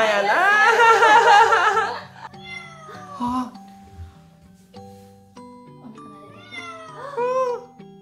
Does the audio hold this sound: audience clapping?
no